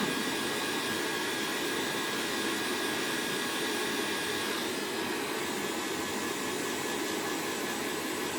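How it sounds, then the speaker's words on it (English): A Conair hair dryer blows steadily at close range, a loud, continuous whooshing roar used to warm resin, with no break. "This is a Conair hair tool."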